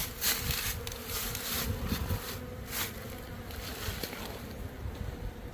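Honeybees from an untreated hive buzz densely and close by, a continuous swarming drone with individual bees passing near.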